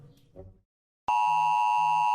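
A mobile phone sounds a loud, steady electronic text-message alert tone that starts abruptly after a brief voice and a moment of silence.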